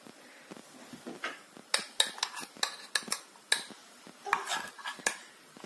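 Metal utensil scraping and tapping against a pot as rice is spread evenly over boranı plov, a run of irregular clinks and scrapes, close and fairly clear with no talk.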